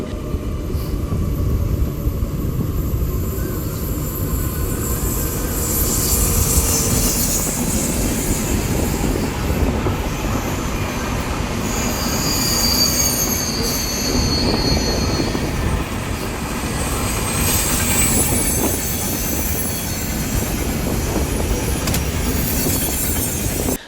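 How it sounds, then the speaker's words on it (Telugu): On the adjacent track, a passing train makes a loud continuous roar of wagons with clattering wheels and high squealing tones, close and steady, with no talk. "ఇప్పుడు మన ప్రాక్క ట్రాక్లో వెళ్తున్న ఈ ట్రైన్ పేరేమిటో మీకు కనుక తెలిస్తే నాకు చెప్పండి"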